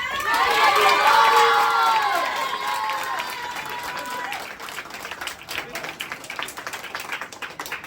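A big round of applause from an audience at an Independence Day celebration in India, loud clapping and cheering with shouting voices at first, then thinning into scattered claps.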